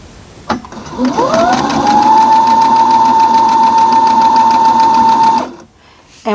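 A sewing machine stitches quilt pieces in one long continuous run, its steady whirring hum starting abruptly, holding loud and even for about four seconds, then stopping.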